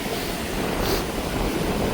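Strong wind roars across the microphone at sea off Jaffna during a low-pressure storm while fishermen work from a boat. Steady, loud waves and wind noise fill the whole stretch, with no voices.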